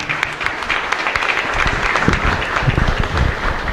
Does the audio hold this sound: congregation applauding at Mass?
yes